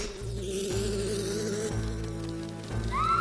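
Buzzing bees in Majora's Mask, a steady droning hum layered with game music and tones, continuous throughout with no voices.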